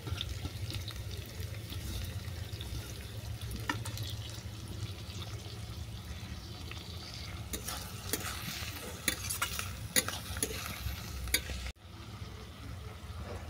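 Onion, ginger-garlic paste, chopped tomato and coriander fry together for a chicken curry, with a steady hissing sizzle and frequent spatula scrapes. The sound stops briefly near the end, then the sizzle resumes. No speech.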